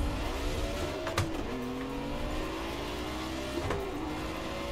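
A BMW M1 Procar race car from the Project Cars racing game drives with a steady engine drone and shifting gear pitch, plus a couple of brief sharp clicks.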